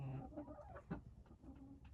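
A hen clucks close by in short, soft bursts, with a few low murmurs and rustles in a quiet indoor henhouse.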